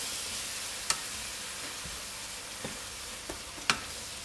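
Sauce flambéing and sizzling in a pan, a steady hiss with a few sharp clicks and pops scattered through it, close and alone with no talk.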